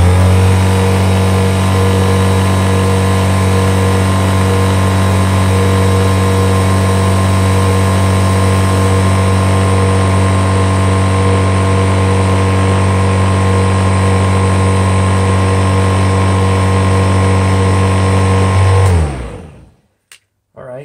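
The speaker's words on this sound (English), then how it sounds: "the motor now has a load. You can hear that when you turn this thing on" A Kirby Heritage II Legend vacuum cleaner motor runs on carpet, a loud, steady drone with a strong hum that holds constant for about nineteen seconds, then cuts off abruptly.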